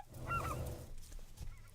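Wild ducks in a hunting setting, responding to a duck call with a few honking calls, faint and distant against quiet outdoor background.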